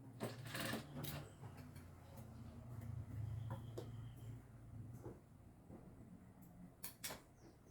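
A sewing machine stitching the edges of a French khimar runs in short, uneven bursts of rapid stitching, close and fairly quiet, with small clicks and handling noises between runs.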